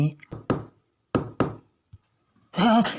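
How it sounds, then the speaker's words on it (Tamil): Knocking on a door, with sharp raps in small clusters, two quick knocks then another pair, fairly close, before a voice comes in at the end. "யாரோ கதவை தட்டுறாங்க"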